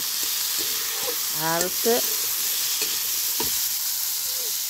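Small baila fish frying in a pan alongside potatoes, a steady broadband sizzle running throughout with a few stirring knocks, while a person speaks briefly over it.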